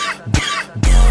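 Two sharp coughs, one after the other, close and loud, break into a French rap song.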